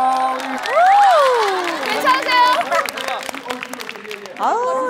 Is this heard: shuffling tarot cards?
no